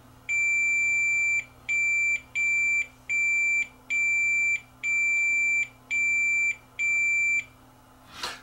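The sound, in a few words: multimeter continuity test beep on ribbon connector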